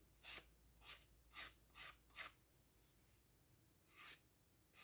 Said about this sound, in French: Et là, pareil, je lime au bout pour enlever